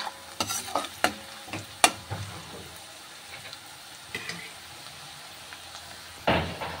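Mushrooms frying in a pan outdoors, with scattered sharp stirring clatters and soft sizzling throughout, a louder scrape near the end.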